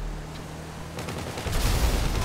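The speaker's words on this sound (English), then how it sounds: "Great explosion right in my path." A driving video game explosion bursts in the vehicle's path, a loud broadband boom with crackling debris rising near the end over a steady low engine drone.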